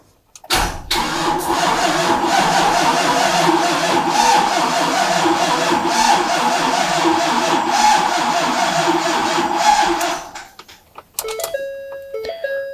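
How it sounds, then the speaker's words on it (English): A rebuilt 2011 Ford Powerstroke diesel engine cranks briefly, then catches and runs with a loud, steady clatter for about ten seconds before shutting off, followed by a few electronic chime beeps. "We're gonna crank it over and see if we can't get this thing to start."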